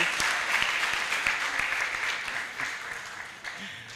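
An audience at a law school moot court competition applauds. The clapping is dense, steady and fairly loud, then thins slightly toward the end, with faint voices underneath.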